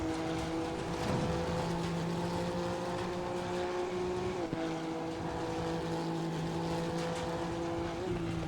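A Honda NSX EVO GT3 turbo engine in Assetto Corsa Competizione at Monza drones steadily at high revs, a smooth sustained whine with a brief shift blip partway through, heard alone.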